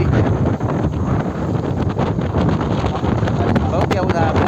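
Strong wind gusting at a flooded riverbank where an overflowing river has risen, buffeting the microphone with loud, continuous roaring bursts, and voices faintly mixed in.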